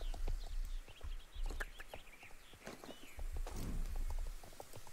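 Horse hooves clip-clop at a steady walking rhythm in the Star Stable Online game, the mount named Rose Petal, with faint bird chirps over a constant low background; the footfalls sound fairly close and moderately loud.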